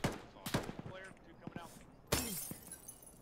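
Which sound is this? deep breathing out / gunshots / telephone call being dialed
gunshots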